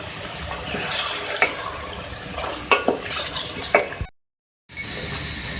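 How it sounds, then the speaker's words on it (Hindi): Beef with softened tomatoes and yogurt sizzles in a pan while being stirred, a steady close frying hiss with a few spoon scrapes and knocks against the pan, then a brief cut to silence. "इसके बाद आप इसकी अच्छी तरीके से भुनाई कर लें।"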